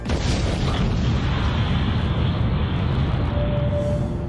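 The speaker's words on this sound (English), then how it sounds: "The Bourbon Casino has imploded to make space for MGM's city center" Implosion demolition of the Boardwalk casino building in Las Vegas, a loud, continuous deep rumble filling the whole stretch with no pause, steady in level and heard alone.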